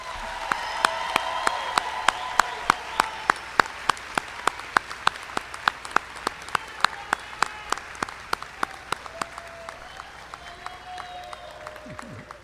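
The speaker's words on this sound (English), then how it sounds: "Another round of applause for our graduates." The crowd at the 2023 South Columbus High School graduation ceremony gives the graduates a sustained round of applause. Sharp, distinct claps ring out over a steady wash of clapping, and the sound slowly thins over about twelve seconds.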